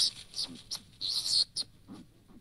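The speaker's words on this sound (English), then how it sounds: "A skunk sounds like this." A skunk sound comes from a Google Home smart speaker in a room: a few faint, high, squeaky chirps in short bursts, quiet and close, with soft background murmur.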